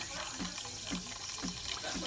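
A Breville espresso machine steam wand heats milk with a continuous soft, broad hiss and a faint bubbling rhythm, heard fairly quietly throughout.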